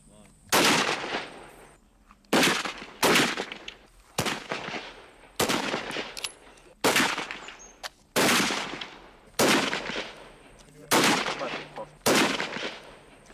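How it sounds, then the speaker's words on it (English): Lee-Enfield rifles fired by WWII re-enactors on a shooting range: eight loud single reports, evenly spaced roughly every one and a half seconds, each ringing out with a short echoing tail. "The Lee-Enfield will be the first time they've heard the sounds of war."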